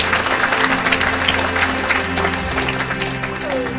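A church congregation applauding during a sermon, with dense sustained clapping and crowd noise filling the space while a voice carries over it.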